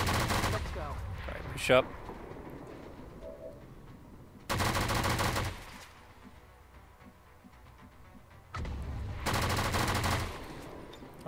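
Soldiers' rifles lay down suppressive gunfire in the XCOM 2 video game, two loud sustained bursts separated by quieter pauses, with a short spoken line early on.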